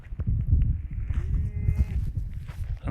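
A bull lows nearby, a drawn-out moo over a low rumbling background, heard on its own with no talking.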